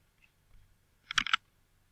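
A quick double mouse click on a computer's backup button, close and crisp in an otherwise quiet room.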